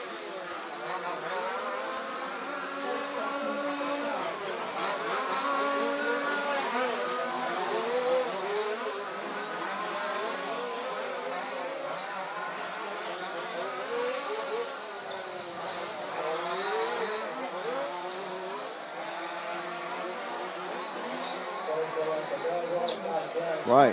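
Electric RC off-road buggies racing around a dirt track during qualifying, a continuous high whining buzz of several motors rising and falling as they pass, fairly faint and distant.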